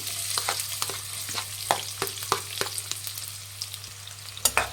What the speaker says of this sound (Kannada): ಸಣ್ಣದಾಗಿ ಹಚ್ಚಿರೋಂಥ ಎರಡು ಈರುಳ್ಳಿ ಹಾಕ್ತಾ ಇದ್ದೀನಿ